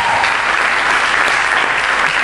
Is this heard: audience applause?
yes